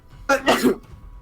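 A single sharp sneeze, close and fairly loud, bursting out in two quick parts and fading within about half a second, heard indoors during a tabletop role-playing game session.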